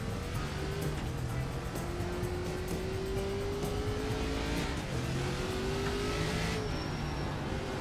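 An ARCA race car engine drones steadily at Langley Speedway in the iRacing video game, its pitch rising and falling through the corners with little sustained full-throttle roar, close and continuous throughout.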